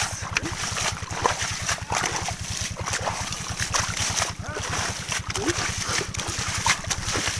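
Irrigation water sprays and splashes over a field of pea plants in a steady, hissing wash with repeated spattering surges, while a person talks throughout.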